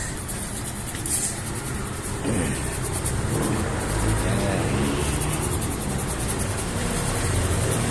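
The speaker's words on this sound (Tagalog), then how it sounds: "Tapos kunin natin arangkada." A car pulls away under hard acceleration on a test drive, its engine rising as a steady, loud rumble inside the cabin, with road and wind noise throughout.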